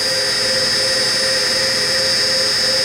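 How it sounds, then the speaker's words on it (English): A DCM IG 180 SD vertical-spindle CNC rotary surface grinder runs as it starts up, with the table, coolant and cabinet blower switching on, producing a loud, steady machine whine and rushing hum with a sharp constant tone. "Start up, table on, coolant on, blower on for the cabinet. Everything starts up automatically."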